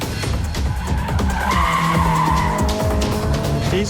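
Race car tyres squeal and skid during a hard driving run, a loud sustained screech rising and wavering over the steady engine roar, close and continuous throughout.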